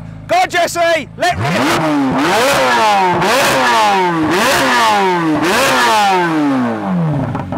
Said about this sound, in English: Pull in both pedals and you can rev it all the way up.